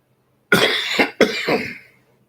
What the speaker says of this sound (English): I don't have a cough button so that I can stop from coughing on air